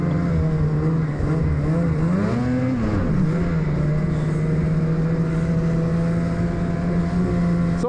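A 2026 Ski-Doo Backcountry X-RS 850 Turbo snowmobile idling close and loud, a steady engine drone that rises in a quick blip of revs before settling back to an even idle.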